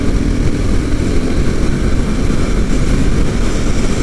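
Husqvarna Svartpilen 701 big single-cylinder motorcycle engine running smoothly in 6th gear, a loud, steady low drone with rushing wind noise, continuous and even throughout.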